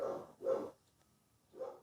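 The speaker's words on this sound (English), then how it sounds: "and the dog's barking now" A dog gives three muffled barks indoors, two close together and a third after a short pause, moderately loud with no talk over them.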